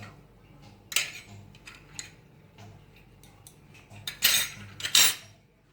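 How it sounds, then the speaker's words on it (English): Bread dough ingredients, including milk powder, salt and refined oil, are mixed in a bowl with a utensil. Sharp clinks and scrapes come at irregular intervals, with a cluster of louder knocks near the end, close and alone without talk. "and 2 tablespoons of refined oil, and I am just mixing all of them"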